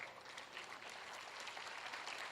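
An audience at a Hindi comedy poetry show claps in a steady, even wash of applause. The crowd's clapping is moderate and continuous from start to finish, with no speech over it.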